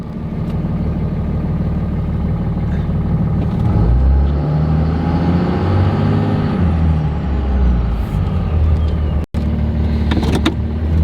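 A cheap Cummins diesel truck engine lugs in first gear, a loud, close, heavy low rumble that drones steadily throughout, with a brief dropout near the end.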